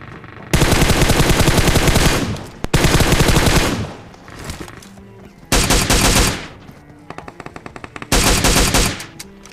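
M4 rifle fire in a battle royale video game on the Georgopol map: four loud bursts of rapid automatic gunfire separated by short gaps, with a few lighter single shots in between and no talking.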